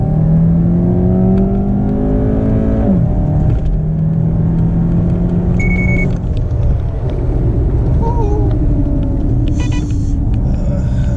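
A Cadillac CTS accelerating hard from a standstill in a 0-60 run: the engine rumbles and revs loudly, pitch climbing then dropping as it pulls away, with continuous whirring road and motor noise throughout.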